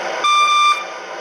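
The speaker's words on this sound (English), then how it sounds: "There's the forward signal," An MTH RailKing CTA 3200 Series model subway train sounds its forward signal, a steady electronic beep tone once for about half a second over a constant hum, clear and close.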